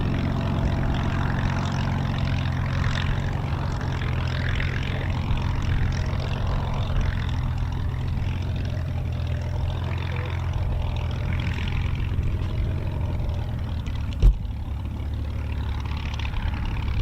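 A Battle of Britain Memorial Flight Hurricane, LF363, in 303 Polish squadron markings flies near RAF Coningsby, its propeller engine a steady, loud drone throughout, with one brief sharp click late on.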